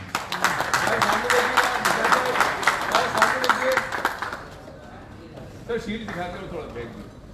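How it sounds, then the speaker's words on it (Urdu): An audience at the Karachi Ghazis team dinner, hosted by GFS Builders, claps loudly and steadily for several seconds. Someone speaks over a microphone throughout, and the clapping fades as his voice carries on. "بہت ساری تالیاں ہونی چاہیے."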